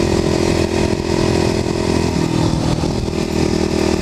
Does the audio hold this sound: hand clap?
no